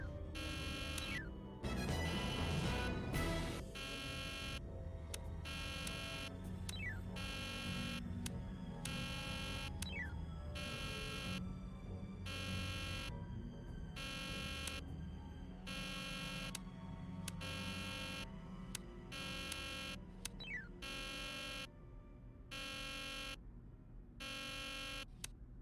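An alarm buzzer blares in a Nancy Drew video game, a rapid repeating electronic pulse that pounds on steadily and loudly for the whole stretch over a low droning background.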